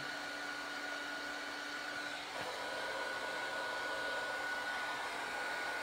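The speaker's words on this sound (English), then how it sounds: "My heat gun works better if I place it at an angle, and then the heat goes across all the powder." Heat gun held at an angle blowing hot air across embossing powder on a card, a steady loud whooshing roar that runs throughout with a brief dip partway.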